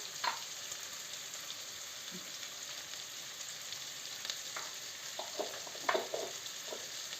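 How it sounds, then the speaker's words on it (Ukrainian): A stewed-cabbage base with paprika, pepper and carrots fries in a pan, producing a soft, continuous sizzle broken by scattered light stirring taps and scrapes. "Робимо повністю таку зажарку."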